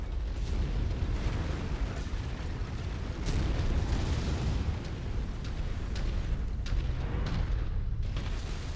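Enemy mech destroyed in the video game MechWarrior 5: a sustained, loud, rumbling explosion with deep low-end roar and scattered crackling bursts that holds steady for several seconds.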